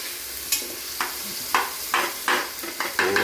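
Finely chopped tomatoes are stir-fried in a pan with curry leaves for a mutton dish. About seven evenly spaced sharp spatula scrapes land over a steady sizzle.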